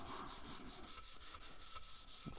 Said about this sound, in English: 400 grit sandpaper, and I just found a nice chunk of wood that fits right down in there nice and tight